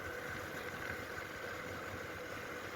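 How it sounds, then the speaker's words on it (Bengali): A motorbike ridden by a young man hums along with a steady, faint mid-pitched engine drone and vibration, recorded from close by without any talking. "আমার ভাইগনাটা বাইক চালাচ্ছে"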